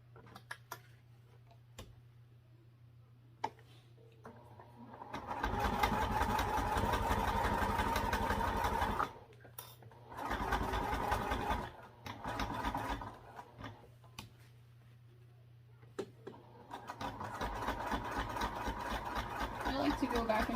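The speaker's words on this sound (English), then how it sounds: "we'll be sewing up the left side across the top and down with that same 1/2 inch seam allowance" Sewing machine runs a half-inch seam across a fabric sling, with bursts of rapid, even stitching chatter separated by quieter pauses and a low background hum, fairly close.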